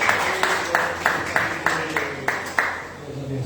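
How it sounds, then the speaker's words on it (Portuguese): A church congregation claps in steady rhythmic unison, about three sharp claps per second, with a faint murmur of voices underneath. "E as palmas é do Senhor Jesus."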